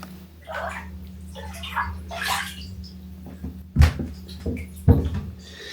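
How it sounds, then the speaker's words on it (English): Bathwater in a home bathtub shifts during a quiet soak, with two brief splashy sloshes standing out over a steady low hum. "we're in the bathtub, 20 minutes, soak and relax"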